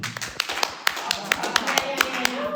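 An audience claps at a home-business meeting: a handful of sharp, scattered hand claps fall in loose rhythm at close range, rising over a steady murmur of room chatter and voices.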